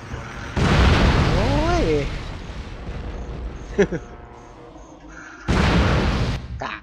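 Two loud, heavy explosions in the game Jet Li: Rise to Honor burst out, one early and one near the end, with a voice crying out briefly in between.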